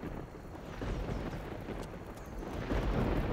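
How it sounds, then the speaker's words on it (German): Stormy weather in the video game Risen 2: Dark Waters, a steady low rumble of thunder and rain-like noise running throughout, swelling slightly toward the end, with no voices. "Es ist schlimm mit den Gewittern hier."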